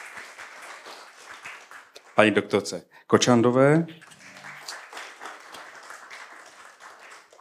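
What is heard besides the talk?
audience applauding panel speakers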